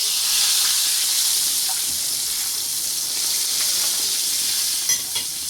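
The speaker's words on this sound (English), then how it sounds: "we're gonna flip our fish" Fish fries in a pan as it is flipped, producing a loud, steady, close sizzle with a bright hiss that runs throughout, plus a couple of small pops near the end.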